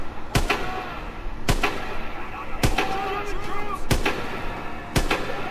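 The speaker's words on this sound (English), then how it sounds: "I am the damn best when it comes to shooting with a damn sniper rifle." Five sharp, evenly spaced sniper rifle shots ring out in the World War II shooter Call of Duty: WWII, each a loud crack standing out over a steady game background with faint voices.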